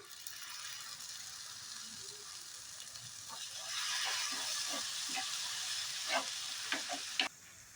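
Tomato sautéing in a pan, a soft steady sizzle that grows louder midway, with a few spatula scrapes and stirs near the end.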